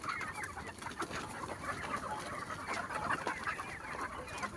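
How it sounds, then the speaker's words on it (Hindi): Chickens on a small poultry farm cluck and chatter continuously as the flock comes out of its enclosure, a busy overlapping layer of many birds nearby with no talking. "देखिए हमारी मुर्गी कैसे एकदम से बाहर आती है खोलते ही"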